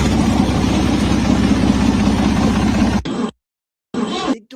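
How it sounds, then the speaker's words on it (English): A submarine engine that fails to start gives a loud, dense, rumbling drone for about three seconds, then cuts out abruptly, followed by silence and a short final burst of the same rumble. "Listen to it like they're trying to start their submarine."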